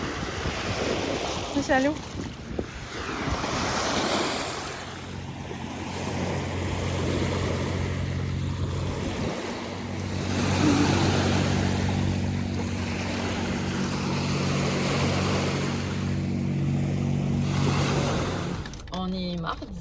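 Water waves washing onto a shore with steady wind buffeting the microphone, a broad continuous rush that swells and eases, while a few short bits of speech rise above it.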